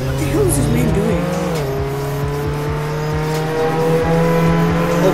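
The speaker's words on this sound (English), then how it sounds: "I'm just gonna use the Camaro" A Camaro in the Roblox game Jailbreak holds a steady loud engine drone with a pitch shift early on, and it stays continuous throughout, partly under a voice.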